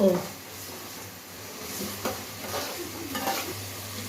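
Green chilies and tomatoes fry for a fish curry, a soft close sizzle with stirring scrapes and light utensil clatter over a low background hum.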